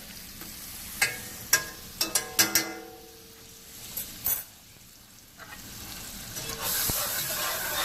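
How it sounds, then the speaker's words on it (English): Butter hits a hot, smoking pan after a few sharp utensil clicks, then a soft hissing sizzle swells and holds steady near the end. "you can see my pan is nice and hot. Smoking. Take some butter. Put that in there."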